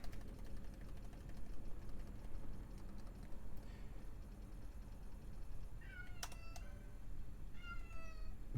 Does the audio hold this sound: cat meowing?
yes